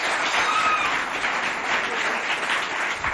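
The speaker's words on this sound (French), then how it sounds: "applaudissez-la bien fort" Crowd at a school singing contest in Chad applauding a singer, a steady, dense wash of clapping from many hands at fairly close range, without pause.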